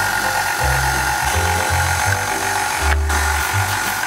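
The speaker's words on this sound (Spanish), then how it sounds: "vamos a poner nuestra maquinita para ayudarnos. Lo vamos a ir amasando poquito a poco hasta conseguir una lasaña fina." A small pasta machine rolling coloured pasta dough into thin sheets gives a rough mechanical grinding whir in repeated bursts with short pauses between passes, close and fairly loud.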